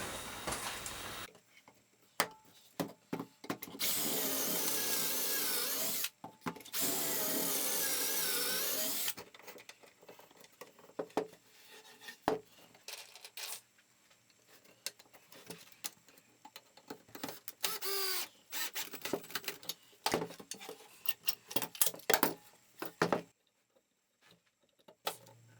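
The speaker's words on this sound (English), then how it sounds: "Before I do the screwing of the pocket screws and the drilling of the holes" Cordless drill bursts drilling holes and driving pocket screws into the wooden upper frame of a mobile table saw station, two long loud whirring runs early, then shorter intermittent bursts with clicks and knocks, no talking.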